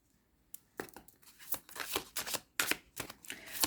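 Lenormand cards are drawn and handled from a deck in a run of quick, close papery flicks and slides, uneven in rhythm, soft but crisp, with no talking.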